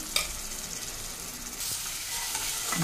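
Ginger garlic paste sizzles in a pan with cinnamon, cardamom and cloves, a steady broadband fry with a stir scrape midway and louder sizzling toward the end, no voices.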